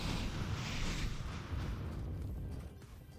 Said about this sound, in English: Remember to look at the explosion.